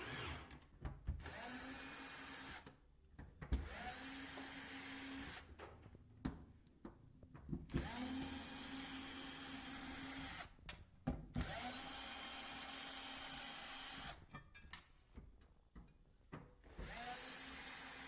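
A power screwdriver whirs in repeated short bursts, backing screws out of a Hotpoint-Ariston built-in cooktop during repair, with brief quiet pauses between each screw.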